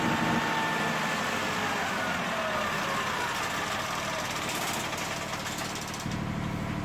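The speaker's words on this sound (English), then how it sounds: "I'm going to stop it and crank again." A Perkins engine runs with a steady, dense mechanical drone and some knocking clatter, heard close and alone at a constant level throughout.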